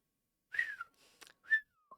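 Someone whistles a few short, bright notes, rising and then falling, with brief pauses between them, close by and fairly soft.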